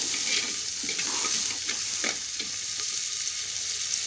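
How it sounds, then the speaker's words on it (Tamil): Tomato and onion sautéing in a pan for a chapati curry: a steady loud sizzle with scattered stirring scrapes and clicks from a spoon, close up, with no talking. "தக்காளியும் நல்லா வதங்கட்டும்"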